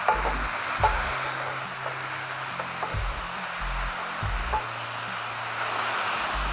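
Stirring lumpia filling in a pan after adding white sugar and pepper, giving a soft continuous scraping and swishing with a few low knocks, close by, with music playing.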